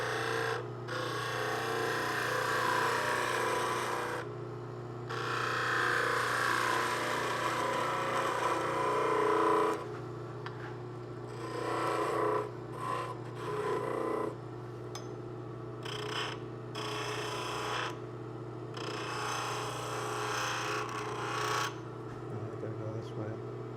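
A skew chisel cuts a wooden ice cream scoop handle spinning on a lathe, giving a steady motor hum with bursts of rough scraping that start and stop as the tool touches the wood, close and fairly loud.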